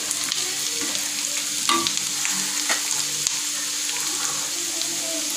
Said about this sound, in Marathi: तेलामध्ये मस्त तळून घेऊ, हिरवी मिरची 2 घेतली आहे